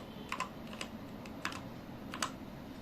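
Keystrokes on a computer keyboard come in a few short, quick clusters separated by pauses, close and fairly quiet.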